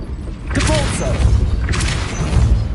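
Depulso force spells cast in Hogwarts Legacy, two whooshing impact bursts about a second apart over a low, rumbling game background, with a brief voice between them.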